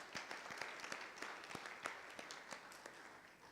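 An audience at a session of a bar association conference gives a round of applause, a continuous spread of scattered claps at moderate level throughout.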